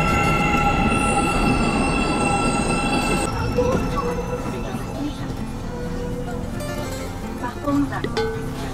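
A metro train rumbles loudly along the track with high metallic wheel squeal, then settles into a steadier running roar with clicks and rattles.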